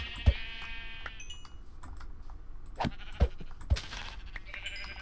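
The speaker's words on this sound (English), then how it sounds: "Wow, there are so many sheep over here." Sheep bleating in the Minecraft video game, several short bleats scattered over a quiet background with soft clicking, no talking.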